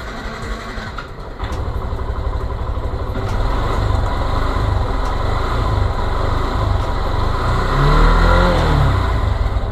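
A loud, close motorcycle engine runs steadily and then revs higher near the end, its throaty rumble continuous throughout.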